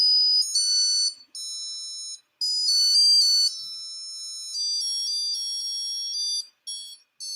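A DIY smart-home device plays a ringtone melody in bright, shrill electronic beeps, a clear note-by-note tune with short gaps between phrases, close and loud, with no talking.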